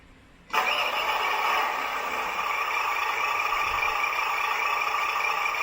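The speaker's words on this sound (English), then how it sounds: "I'll also show you the different sound between the petrol version and diesel version. This is petrol." A WPL RC car sound system plays its simulated petrol engine sound, kicking in abruptly after a quiet moment, then holding a steady, buzzy synthetic idle close by with no talk over it.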